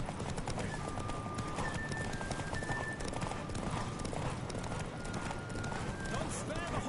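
Rapid hoofbeats of a horse galloping in a race in The Witcher 3, a dense continuous drumming of hooves with faint whinnies and a whistling tone over it, loud and close, with voices talking at points.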